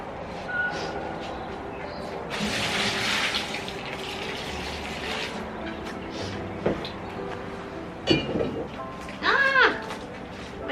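Water pours onto balcony garden plants and soil, a continuous splashing gush building and fading for several seconds, close and moderate in volume, followed by handling clatter and a brief vocal exclamation.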